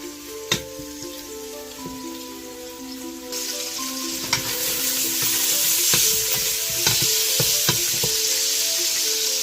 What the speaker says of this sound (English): we're gonna brown our bacon right now